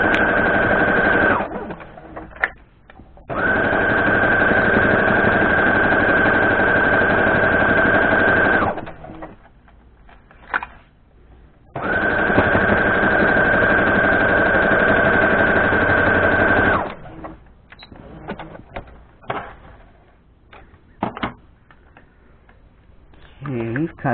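A sewing machine stitches a quarter-inch seam on a log cabin quilt block, two long steady whirring runs with a high whine, separated by pauses and followed by quieter handling sounds and clicks, with a voice speaking in between.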